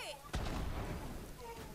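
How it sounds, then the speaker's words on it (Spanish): A Sidewinder grenade in Borderlands 3 goes off with one sharp, loud blast whose rumbling tail fades over the next second, with faint game tones behind it. "Hace una explosión bastante grande."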